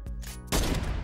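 A heavy sniper rifle fires in a trickshot deathrun video game, a sharp crack landing about halfway through, loud and close, with rapid-fire gunfire crackling behind it.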